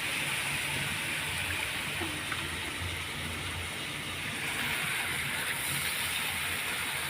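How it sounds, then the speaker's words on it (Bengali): A bowl being washed under running water in a home kitchen, a steady close rush of flowing water with faint clinks throughout. "ততক্ষণ এটা বাটিটা ধুয়ে একটু জল দিয়ে দিই"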